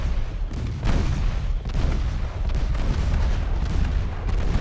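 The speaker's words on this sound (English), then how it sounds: "So we take another torpedo hit." Torpedo hit on a warship in Ultimate Admiral: Dreadnoughts, a loud deep blast around the one-second mark, followed by further booms and sustained low rumble of naval combat.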